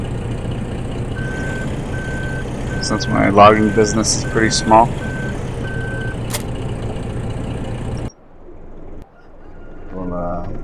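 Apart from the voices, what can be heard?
semi truck reversing beeps while parking, from a video game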